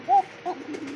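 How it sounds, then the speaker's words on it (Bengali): A pigeon, a Govinda kokar male, gives two short soft coos close by, the first slightly longer than the second, with quiet background noise between. "ভাই এটা কি কবুতর দিলেন ভাই?"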